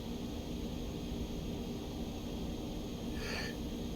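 A steady turboprop engine drone from an Aerobask E1000 in X-Plane 11 as it backtracks along a runway, continuous and fairly loud, with a brief breathy rise near the end.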